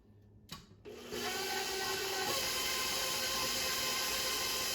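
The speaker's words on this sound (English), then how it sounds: "Dumping the eggs into the mixer, and then we're going to beat everything in." An electric mixer beats eggs into chocolate chip cookie dough, a steady loud whirring hum that starts after a brief clatter and runs on continuously.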